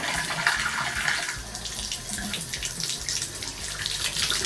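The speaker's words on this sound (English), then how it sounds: "You want to use freezing cold water." Freezing cold tap water runs steadily while rinsing freshly dyed hair at a sink, a close, continuous splashing gush with shifting spatter as the stream hits hair and basin, and no one talking.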